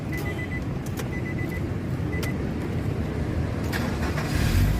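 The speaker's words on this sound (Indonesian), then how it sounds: "Sekarang kita coba nyalakan mobil ya." 2005 Nissan X-Trail T30 2.5 ST automatic with about 184,000 km, its engine running as a steady mechanical hum with faint dashboard chimes and clicks, then a louder rise near the end.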